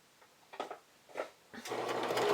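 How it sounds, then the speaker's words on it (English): A sewing machine stitches a camisole seam from top to bottom: a few short stop-start bursts, then a steady, close whirring run that keeps building. "So I'm sewing all of mine from the top of the garment to the bottom."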